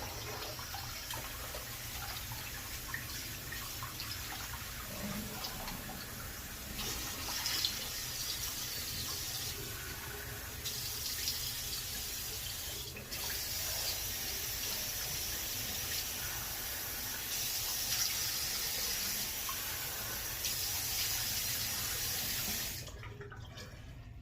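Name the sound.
tap water running for rinsing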